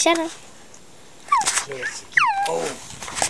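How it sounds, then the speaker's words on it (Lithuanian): A puppy gives a few high, thin whimpers and squeaks in short bursts, separated by quiet pauses, fairly close. "Va čia mūsų šuniukas"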